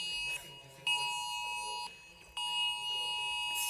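A phone sounds a Silver Alert emergency tone: loud, shrill, sustained electronic beeps in long bursts separated by short gaps, close by in a quiet room.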